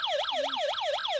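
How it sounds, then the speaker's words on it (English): Wailing electronic siren from a Marsboy 4 in 1 wireless doorbell's motion alarm, rapidly sweeping up and down in a loud, steady, close repeating cycle with no talk. "That's the alarm."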